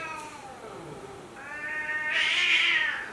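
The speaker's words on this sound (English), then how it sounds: "If you've ever wondered what the sound of a cat procreating sounds like" A cat yowls loudly during mating, a drawn-out wavering caterwaul that rises in pitch and intensity toward the end, close by and with no other sounds over it.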